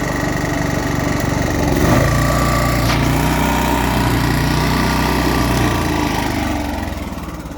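A small engine runs steadily after a bad-gas repair, a loud close drone with a brief swell in speed early on that settles and then fades slightly toward the end.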